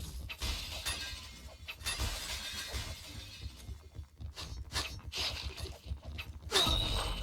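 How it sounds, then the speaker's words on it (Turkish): Glass shatters repeatedly in the video game Point Blank, several sharp crashes and breaks scattered across the stretch with bursts of gunfire-like clatter between them. "Camı kırmaya çalış."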